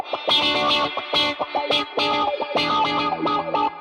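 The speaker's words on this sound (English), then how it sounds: "As well as a touch wah." Electric guitar played through a touch wah effect on a ToneX One worship pedalboard, with quick rhythmic picked notes that sweep and quack, with some chorus and echo, loud and close with no talking.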